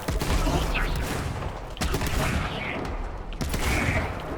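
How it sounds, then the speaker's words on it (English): Shotgun fire in the video game Borderlands 3, a dense, loud barrage of blasts with sharp broadband cracks near 1.8 s and 3.4 s over continuous combat noise. "God, that shotgun is good."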